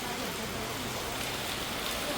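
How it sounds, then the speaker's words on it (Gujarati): Heavy rain pours down in a dense, unbroken hiss of drops striking surfaces, loud and steady throughout with no pause. "જો વરસાદ વધી ગયો છે."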